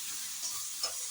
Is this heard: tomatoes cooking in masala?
yes